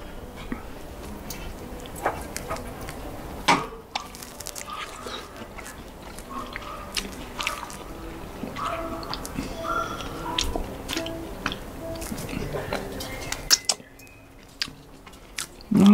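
Close, wet chewing of a bite of meat smoked on a Landmann Vinson 300 offset smoker, with soft squishy bites and mouth noises repeating irregularly at moderate level.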